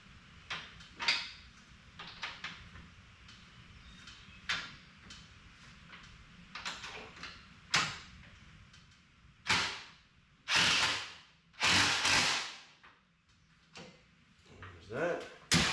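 A valance-fitted door on a 2021 Polaris RZR Pro XP opens and shuts with a series of scattered clicks and thuds, ending in several louder slams and latching knocks nearby, with occasional speech in between.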